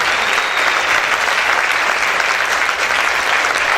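Sustained applause from a church congregation, steady and dense throughout, with no voices standing out.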